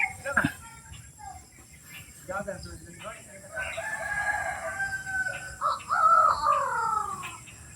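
Farmyard chickens around a house in Davao, including an escaped white chicken, cluck and crow in drawn-out calls that grow louder toward the end, with people talking over them.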